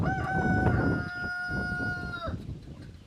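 A Rhode Island Red rooster lets out one loud, close crow that holds steady, then breaks off after about two seconds, with soft farmyard clucking and rustling around it.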